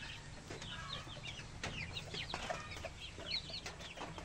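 Polish and silky chickens clucking and chirping softly over a steady wash of background noise, faint and somewhat distant.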